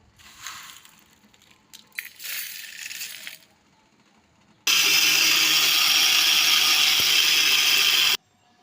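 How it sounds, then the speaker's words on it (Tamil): After some light clattering and handling noises, a mixer grinder grinds spices for idli podi, whirring loudly and steadily for several seconds, then stops abruptly. "மிக்ஸி ஜாரில் மாற்றி நல்லா நுணுக்கிப்போம்."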